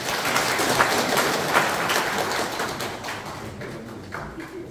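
Audience applause at a community social security council award ceremony in Pocheon, a steady dense clapping from a crowd that holds for several seconds and then slowly thins.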